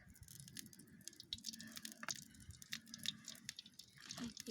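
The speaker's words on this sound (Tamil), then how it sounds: "அதில் நம்மள எண்ணெய் ஊற்றுறோம்." Cooking oil poured into a pan while making egg rice: a soft, quiet trickle with faint dripping and liquid splashes, heard alone and close.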